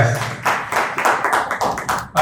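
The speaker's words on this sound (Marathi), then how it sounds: "टाळ्या." Clapping from a group at a get-together, a rapid run of claps over a little more than two seconds, fairly loud and close, with faint voices mixed in.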